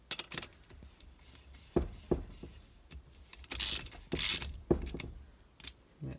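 A ratchet snugs bolts on a Toyota 2E engine during assembly, giving several short, close bursts of clicking and ratcheting separated by brief pauses.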